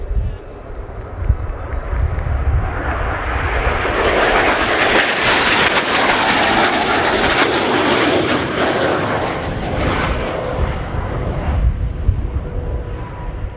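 Roaring jet engine of a Spanish Navy EAV-8B Harrier II+ during an air show flying display at RIAT, swelling to a loud, broad rush as it passes and then slowly fading, with a voice talking over it.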